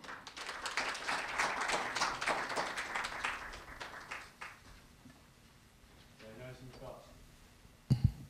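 An audience at the opening ceremony of a Korea University campus town conference in Seongbuk claps steadily for several seconds, then the applause fades out into a quiet room with a faint voice.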